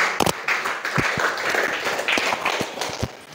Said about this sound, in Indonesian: tepuk tangan buat MC-nya nah